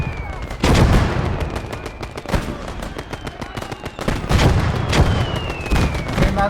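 Mortar and gunfire in a video game battle: sharp, loud blasts strike repeatedly at irregular intervals over rattling fire, with a whistling tone sweeping past.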